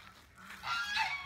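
Guardian geese honking an alarm, a short loud burst of nasal honks rising near the end of a brief stretch.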